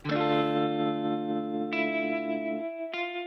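Sustained synth chords with a wobbly, pitch-warbling lo-fi plugin effect set high, shifting to a higher chord partway through, then a final short chord.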